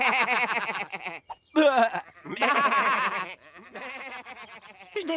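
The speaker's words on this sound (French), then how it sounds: "Tu as fait peur aux moutons." Cartoon sheep bleating in a chorus of wavering, nasal cries, several overlapping calls in bursts with short gaps, loud and close.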